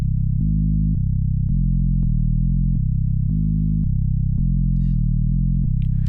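Synth bass intro of a song, built in Pigments as a gliding bass line with slight portamento, plays alone in a steady, loud sequence of held low notes with a soft attack on each note.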